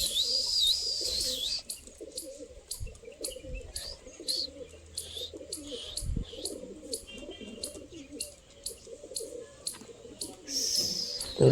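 A pigeon cooing with repeated soft low calls, set among frequent sharp chirps from other birds outdoors, moderately close, with faint background noise.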